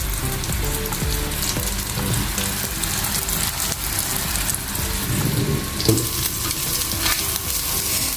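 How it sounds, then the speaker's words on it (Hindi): Beef resha (shami) kababs frying in hot oil, giving a steady, close, crackling sizzle that runs the whole time with small bursts of spatter and no voices. "तो हम इसको गोल्डन ब्राउन होने तक जो है ना फ्राई करते रहेंगे"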